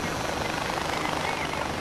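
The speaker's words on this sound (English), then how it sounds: "I wonder if I could just fly the helicopter straight into the tower." A helicopter in the video game Far Cry 4 gives a dense, steady rotor and engine roar. The sound is continuous and loud throughout, with no break.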